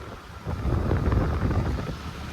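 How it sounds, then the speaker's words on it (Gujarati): Cold wind buffeting the microphone outdoors on a roadside as rain begins, a steady low rumbling gust that swells and holds for about two seconds. "કેવો ઠંડો પવન આવે"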